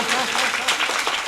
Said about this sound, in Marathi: सुंदर असे गायक आणि वादकांसाठी टाळ्या होऊन जाऊ द्या